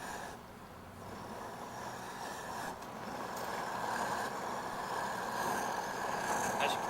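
A Sheen paraffin flamegun for weeding warming up, a steady broadband roar that slowly grows louder and fiercer over several seconds.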